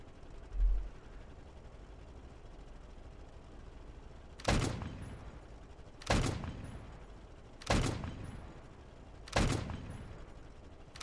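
Autocannon fire in StormWorks, four sharp loud blasts spaced roughly a second and a half apart, each with a short booming decay over a quiet background hum.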